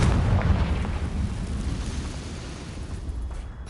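A Bombarda spell explosion in the video game Hogwarts Legacy, a heavy rumbling boom that starts loud and slowly fades over a few seconds, with no talking.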